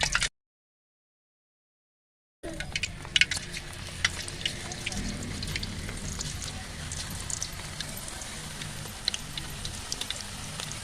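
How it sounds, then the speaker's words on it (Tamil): Slices of nendran banana frying in hot oil in a kadai outdoors, a dense continuous sizzle with scattered crackles and pops that starts abruptly after a brief silence and holds steady throughout. "இன்னைக்கு வந்து நேந்திர சிப்ஸ் வந்து பொரிச்சிட்டு இருக்கிறோம்"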